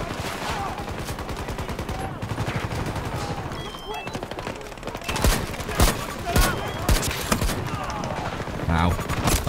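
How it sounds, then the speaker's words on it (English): Rapid gunfire and scattered heavy shots ring out in a Battlefield 2042 match, with several loud bursts toward the end. A player talks over the shooting. "Who the hell is shooting us?"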